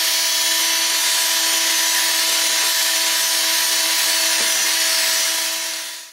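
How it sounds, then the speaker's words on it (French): A power drill spins a toilet brush to stir a thick homemade chemical stripper, giving a loud, steady whirring hum with a faint tonal whine that winds down at the end. "Donc une balayette à chiottes sur une perceuse et en avant Guingamp."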